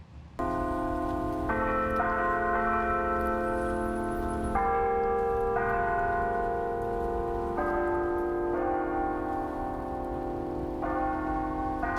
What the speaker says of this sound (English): The bells first rang a verse from the hymn Amazing Grace, then tolled 3 times in memory of the players who were killed.